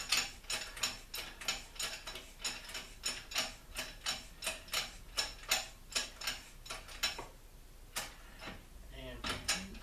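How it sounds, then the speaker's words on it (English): A 4L60 transmission bushing is countersunk with a hand tool, making a close run of regular, sharp metallic clicks and ratcheting ticks in a steady rhythm, with a short pause near the end before the clicks resume. "I'm going to countersink it just a little bit."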